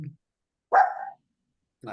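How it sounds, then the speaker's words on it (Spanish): A dog gives one short, close bark amid indoor surroundings, with brief speech-like sounds just before and after it. "Es este perro"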